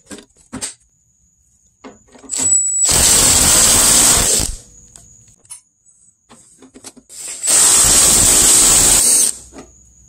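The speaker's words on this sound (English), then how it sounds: "So we're going to take this bolt off here." A bolt is removed during an A/C condenser replacement on an older Chevy, with two loud hissing bursts from a power ratchet or impact tool separated by quieter clicks and handling noises.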